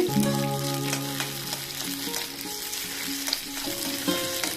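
Ten to fifteen green chillies fry in hot oil for a methi tomato chutney, giving a dense, steady sizzle close by, with occasional stirring scrapes and clinks from the pan.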